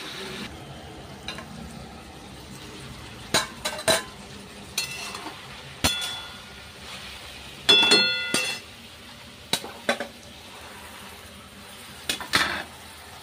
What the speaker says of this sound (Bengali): এইবারে শাক সবজি দিয়ে দিলাম, সবজিগুলো দিয়ে দিলাম